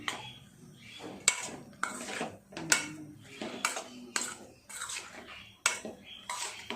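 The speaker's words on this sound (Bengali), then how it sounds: "সব উপকরণগুলো খুব সুন্দর করে সয়াবিনের গায়ে মিশিয়ে নেব।" Soybean chunks are mixed with spices and a spoonful of salt in a bowl, giving repeated scraping and clinking strokes in an irregular rhythm, close and moderately loud, with no talking.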